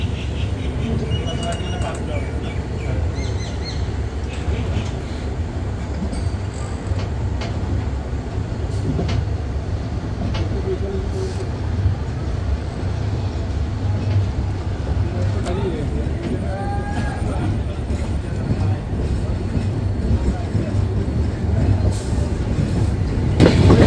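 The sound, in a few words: train departing Ishwardi Junction station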